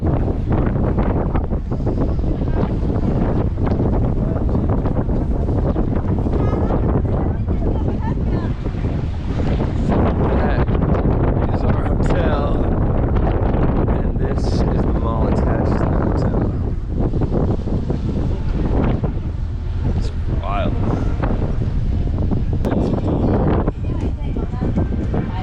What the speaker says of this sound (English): Look gusty out here.